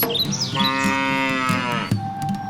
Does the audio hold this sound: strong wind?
no